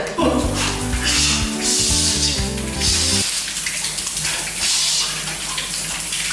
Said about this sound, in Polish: postanowiłem skoczyć pod lodowaty prysznic